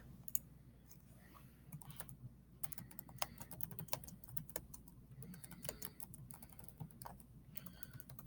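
Quiet, rapid typing on a computer keyboard, with a steady patter of soft key clicks and occasional sharper taps over a faint background hum.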